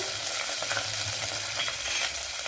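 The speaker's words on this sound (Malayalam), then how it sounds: "ഞാൻ ഓയിൽ ഒഴിച്ചു കൊടുത്തിട്ടുണ്ട് ഇനി ഇതിലേക്ക് ഒരു ചെറിയ പീസ് ഇഞ്ചി ഇതുപോലെ ഇട്ട് കൊടുക്കാം" Small pieces of ginger sizzle in hot oil in a pan for a fish curry, a continuous bright crackling hiss, close and even throughout, with no voices.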